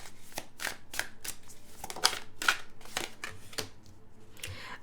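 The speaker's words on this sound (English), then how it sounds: "let's get the rest of the cards out." Tarot cards are laid out one after another on a table, a series of crisp close slaps and slides at an irregular rhythm, with no talk.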